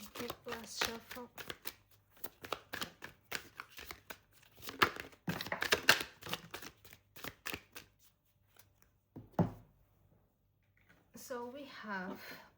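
Tarot cards riffle and slap in bursts between stretches of speech, then a final quick shuffle after a short pause.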